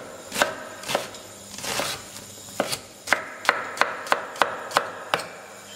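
A knife coarsely chops onions for a Hungarian Mangalica pork goulash, sharp board strikes spaced at first, then a quicker, regular run of about eight crisp chops, close and clear.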